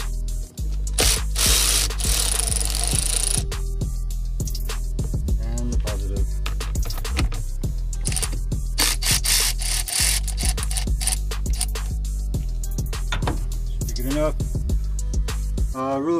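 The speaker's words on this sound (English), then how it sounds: "I'm gonna go ahead and loosen the negative." A ratchet wrench loosens the negative battery terminal nut on a 2007 Toyota Tacoma, giving rapid, loud, close clicking bursts in repeated strokes with brief pauses and metallic rubbing between them.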